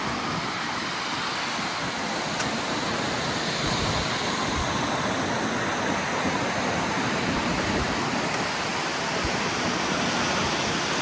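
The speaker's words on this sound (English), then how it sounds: "And again, this is the Bonnechere River." Broad, steady rushing of the Bonnechere River flowing at Eganville, Ottawa Valley, a constant loud wash of water with no breaks and no talking.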